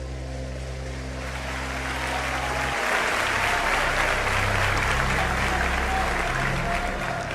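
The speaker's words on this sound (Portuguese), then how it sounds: "aplaudindo a Jesus porque Ele é bom" A church congregation claps for Jesus, the applause building and swelling into a loud, dense, sustained ovation after a lower held tone fades out near the start.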